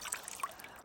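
Plain water trickles briefly and faintly into a container while an ice house is being built outdoors in Finland, a soft pour under a quiet background.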